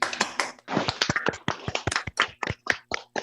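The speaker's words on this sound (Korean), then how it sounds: "박수 한번 보내드리겠습니다." Participants in an online memorial for the 7th anniversary of the Sewol ferry disaster clap over unmuted video-call microphones, a ragged, uneven mix of close, sharp claps from several people at once.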